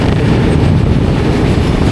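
An Indian Railways train, the Kolkata Express, is running at night near Varanasi. A powerful locomotive passes close by, and its loud, dense rumble with low rattling fills the whole short stretch with no pause and no voices.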